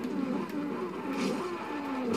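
Aston Martin V12 car in Forza Horizon 2 runs with a steady, loud engine drone and a few faint crackles from the exhaust, continuous with no talking.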